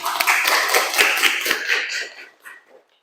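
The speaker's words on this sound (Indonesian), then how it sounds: "Oke, bagus banget tepuk tangannya" A classroom of students applauds together, rapid dense clapping that swells, then thins out and fades to silence near the end.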